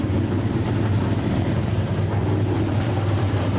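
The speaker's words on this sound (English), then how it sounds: "No, the engines are running." F4 U.S. race car engines idling together at the start at Virginia International Raceway, a steady low droning rumble with constant loudness and no talk.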